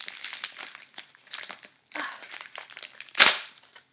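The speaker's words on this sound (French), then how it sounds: "C'est tout emballé de papier bulle." Bubble wrap around a package being pulled and crinkled in bursts, with one sharp loud crackle near the end; no one speaks.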